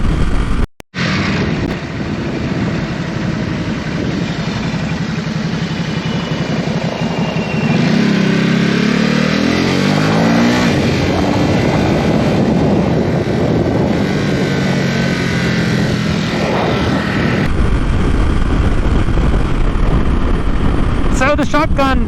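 A vehicle engine runs at night, recorded by a GoPro Hero 9 without an external mic, giving a loud continuous drone that rises and falls in pitch, with heavy wind rush throughout.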